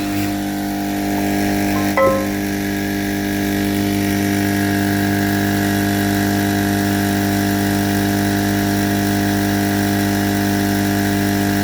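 Faulty air pump running and blowing, a steady droning hum with a brief squeak near the start, continuous and close with no talk.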